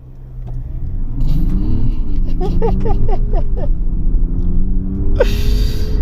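A 2024 Mazda CX60 with a 3.3-litre inline-six turbo diesel mild hybrid pulls away on gravel, its engine rising in a loud, close, rumbling drone as stones crunch and tick beneath the tyres, with a brief burst of noise near the end.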